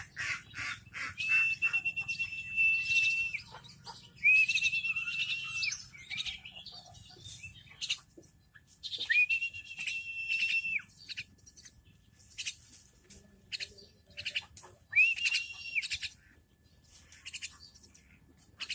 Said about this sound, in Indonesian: Ini sudah datang satu jalak ya